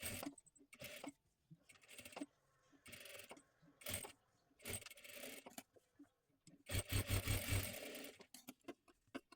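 Close, quiet sewing machine bursts stitching a blouse, short runs of rapid needle clatter separated by pauses, with one longer run near the end.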